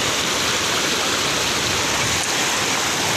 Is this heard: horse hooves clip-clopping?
no